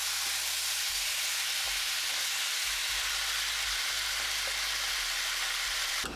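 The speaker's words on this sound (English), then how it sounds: "I am going to let the oxtail caramelize on both sides for 15 minutes" Oxtail sears and caramelizes in a pot. A loud, continuous hiss of sizzling fills the whole stretch with a low rumble beneath it, and no one speaks.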